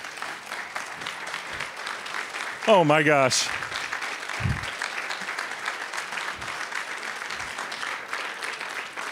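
Applause from an audience at an academic affairs fall staff meeting, steady and moderately distant, running throughout with a brief exclamation and a short burst of talk partway through.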